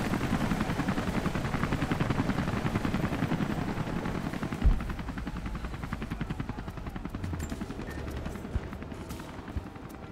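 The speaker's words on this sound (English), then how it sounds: "Whoa, is a helicopter landing here?" In the Rise of the Tomb Raider video game, a helicopter lands amid gunfire: a dense, continuous rotor chop and rapid automatic fire, loud and sustained for the whole stretch, with a single heavier thud near the middle.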